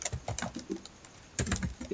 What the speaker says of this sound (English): continue typing, something like that.